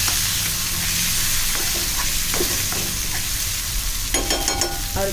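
Coriander and onions fry in hot oil, giving a steady close sizzle with occasional spoon scrapes and stirring clatter near the end, and no one speaking.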